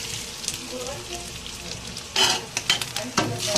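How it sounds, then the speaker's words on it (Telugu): Grated coconut fries in hot ghee in a pan, giving a soft steady sizzle with scraping stir strokes that grow louder and more frequent toward the end. "ఇంకా కొబ్బరికూర అయితే ఫ్రై చేసుకుంటున్నాను"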